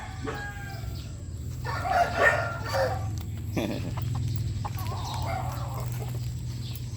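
Young Bulik stag roosters in a cord area cluck and crow in short bursts over a steady low outdoor hum, moderately near, with no talking.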